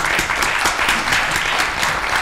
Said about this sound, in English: I would like to invite all of you to join me to thanks to show our appreciation to the panelists. Applause.